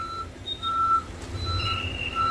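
Repeated electronic reversing beeps from a bus at Pune's busy Swargate bus stand, where Shivneri AC electric buses come and go, sounding in regular pulses over a low engine rumble.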